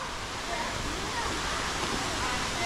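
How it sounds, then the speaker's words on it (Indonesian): Small waterfall at Bukit Air in Perlis, Malaysia, with low water flow pouring into a pool; a steady, dense broadband rush of falling water fills the whole span without pause. "ni dia kawasan air terjun Bukit Air"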